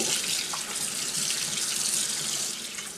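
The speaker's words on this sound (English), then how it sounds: "Cover the bacalao with fresh cold water and soak for 1 hour." Cold tap water runs steadily from a faucet into a kitchen bowl holding salt cod (bacalao) set to soak, a continuous bright hiss and splash lasting throughout with no voices.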